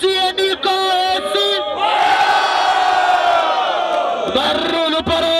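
A large crowd at a São Gonçalo rap battle cheers and yells loudly, a sustained roar of voices swelling in the middle, with a few single shouts before and after.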